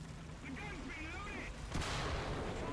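A tank cannon shot in War Thunder, one sharp, loud blast about two-thirds through with a rumbling tail, after quieter engine noise and some talk.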